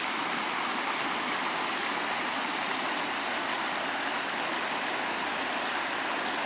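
A mountain river in the Western Alps rushes past close by, a loud, steady broadband roar of flowing water over stones with no voices.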